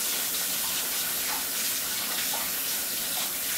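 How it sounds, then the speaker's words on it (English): A fork is washed under a running kitchen tap, with a steady close gush of water splashing continuously throughout. "it's a lot simpler if you actually wash a fork"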